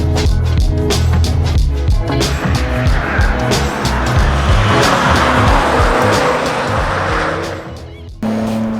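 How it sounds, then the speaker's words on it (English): Honda Civic EP3 race car on a circuit, its engine loud and close throughout with a busy revving drone and changing pitch as it accelerates, a brief drop near the end before the engine picks up again. "we're all going to take out the little Civic"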